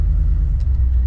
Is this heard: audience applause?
no